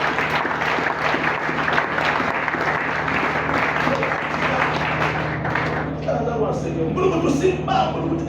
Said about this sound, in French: Acclame d'abord le Seigneur.